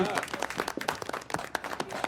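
Podcast hosts clapping together, a quick run of sharp, close handclaps with an uneven rhythm, short and fairly quiet, loosely spaced across a couple of seconds.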